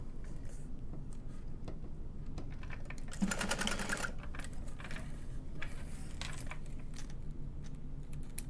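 Sewing machine tacking across the bottom ends of two zippers on a handmade bag side gusset, a steady mechanical whir with one louder rapid burst of stitching in the middle, close and alone.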